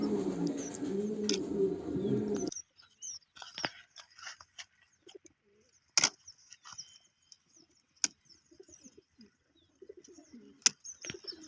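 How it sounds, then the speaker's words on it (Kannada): Homing pigeons at a loft before a race release, with soft coos and chirps close by, then scattered clicks, light knocks and brief fluttering in a quiet space; a low murmur fills the opening seconds. "7:35ಕ್ಕೆ ಯಂಗ್ ಬರ್ಡ್ಸ್ ಬಿಡ್ತಾರೆ."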